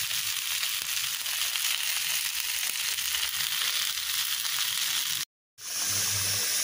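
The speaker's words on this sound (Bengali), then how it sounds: "এতে কালো কালো লম্বা বেগুন ভাজি করলাম" Long black eggplants fry in hot oil with a steady, close, dense sizzle and crackle that hiss on for several seconds, broken by a brief total dropout near the end before the frying noise resumes.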